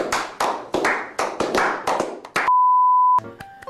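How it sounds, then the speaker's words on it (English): Several short bursts of clapping from a few hands follow in quick succession, then a sustained electronic beep tone and some faint clicks, close and fairly loud. "Round of applause."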